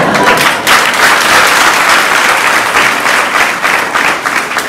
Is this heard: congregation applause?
yes